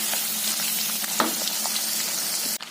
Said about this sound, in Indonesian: Gorengnya sebentar aja, cuma sampai dia layu